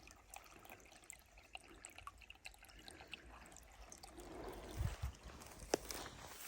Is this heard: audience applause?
no